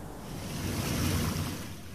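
Water rushes and splashes steadily as a leaking pipe floods a casino floor at Planet Hollywood, a dense continuous roar with no voices.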